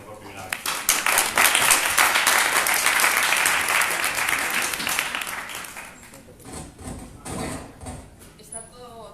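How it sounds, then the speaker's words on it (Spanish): An audience at a politics talk night in Madrid applauds loudly, then the clapping thins out and fades as scattered voices begin to come through. "os pido para que la saludéis un fuerte aplauso"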